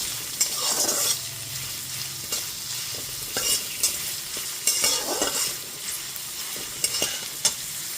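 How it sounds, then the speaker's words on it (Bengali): Chopped onion sizzling in a pan over a low gas flame while being stirred for a jute-leaf dal, a steady frying hiss broken by repeated scraping stirs, close and fairly loud, with no voices. "এবার গ্যাসের ফ্লেমটা লোতে রেখে পেঁয়াজটা দিয়েও খুব ভালো মতো একটু নাড়াচাড়া করে নিচ্ছি।"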